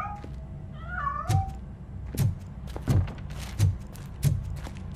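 A cat meows in the video game Robocop: Rogue City, a few clear rising meows near the start, followed by a steady series of soft thumps.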